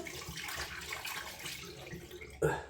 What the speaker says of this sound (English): Just rinse the hands